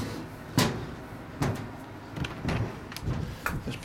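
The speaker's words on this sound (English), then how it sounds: "In through the door, the usual way." Door of a 2017 Swift Moselle lodge, 40 by 13 with two bedrooms, opening with a few separate knocks and clunks. The sounds are close and moderately loud, with faint movement between them.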